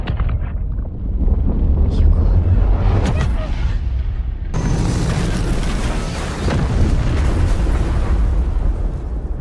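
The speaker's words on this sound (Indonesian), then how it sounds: "terjadi ledakan dahsyat" A massive explosion with a deep, sustained roar and rumble, loud and close, continuing as a turbulent blast of noise.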